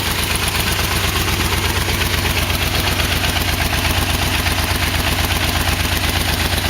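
A Yamaha V-Max motorcycle engine idles with a miss in one cylinder after new mufflers were fitted. It makes a loud, close, continuous rumble of steady, rapid exhaust pulses.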